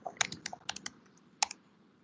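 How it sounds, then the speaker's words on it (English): Quick bursts of keystrokes on a computer keyboard during an AWS EC2 setup demonstration, a short run of close, crisp clicks, a pause, then a few more taps, with no talking. "if I'm typing it here, like let's do this"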